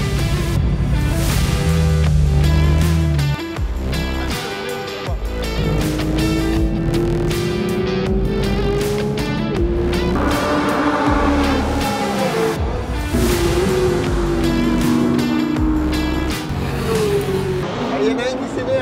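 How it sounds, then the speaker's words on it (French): Cars lapping a race circuit during passenger ride sessions, engines droning and revving continuously at close range, mixed with loud background music and voices talking over it. "ça roule du coup sur le circuit pour faire des baptêmes"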